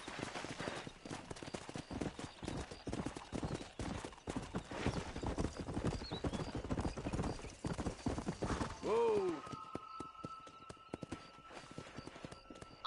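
Horses racing at a gallop in Red Dead Redemption, dense rhythmic hoofbeats pounding close and steady under occasional talk, followed by a clear whinny near the end.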